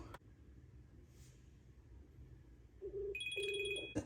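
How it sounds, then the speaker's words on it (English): An iPhone ringtone chimes near the end, relayed on an Apple Watch SE (2nd generation), a short electronic melody rising over a quiet hum after a few seconds of near silence. "I can see that the phone is like ringing on my Apple Watch"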